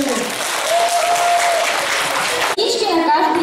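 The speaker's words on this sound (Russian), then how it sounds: "ваши громкие аплодисменты" Children at a hairstyle contest break into loud, dense applause that fills the whole stretch, with a brief cut midway and a voice carrying over the clapping.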